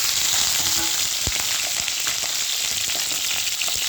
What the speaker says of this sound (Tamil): இப்போ இதை சிம்மில் வச்சுக்கிட்டு இந்த கத்திரிக்காய் எண்ணெயில் கொஞ்சம் வேக விடுவோம்